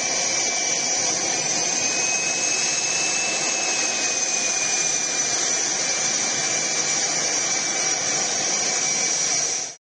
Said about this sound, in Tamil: தேஜஸ் MK-1A ரக போர் விமானம் ஓடுபாதையில் இருந்து புகையை கக்கியவாறு விண்ணில் சீறி பாய்ந்தது